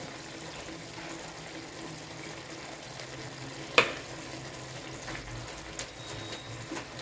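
A curry bubbles in a pot on the stove, a steady close simmering hiss with a single sharp clink midway and a few soft bumps as curry leaves go in, no talk.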